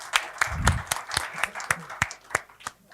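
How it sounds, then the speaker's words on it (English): An audience at a blockchain conference applauds a speaker with a steady run of claps, close and lively, holding at an even level for the whole stretch. "Please, another warm round of applause for our penultimate speaker, Sebastian Buczyński"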